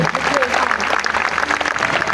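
Applause from an audience at a Turkish literary and labor awards ceremony, steady and moderately loud over two seconds. Someone speaks over the clapping.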